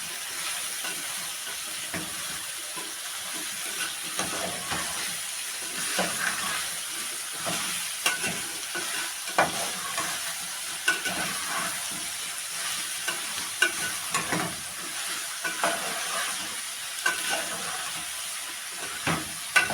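Minced meat and zucchini sauté in a pan with a continuous sizzle and hiss, broken by repeated scraping strokes of a spoon stirring, fairly soft and close.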